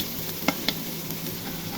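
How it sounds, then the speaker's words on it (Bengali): Chopped onion frying in a pan after cumin seeds, a steady close sizzle with two quick clinks of a utensil against the pan. "পেঁয়াজ দিয়ে ভেজে নিব"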